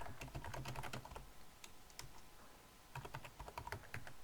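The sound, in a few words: typing on a computer keyboard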